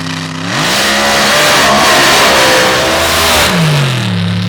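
A drag racing car on its run down the track, a loud engine roar that rises in pitch, holds at full throttle, then drops off as it eases off, heard close and with no voices.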